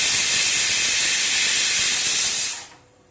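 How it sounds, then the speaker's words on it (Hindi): A pressure cooker whistling while chana cooks, a loud, steady hiss of escaping steam that fades out abruptly after a few seconds. "कुकर में सीटी आ चुका है"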